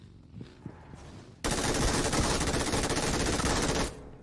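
An MG3 machine gun fires in a video game, a loud unbroken burst of rapid automatic shots lasting over two seconds after a few quieter thumps, then cutting off abruptly.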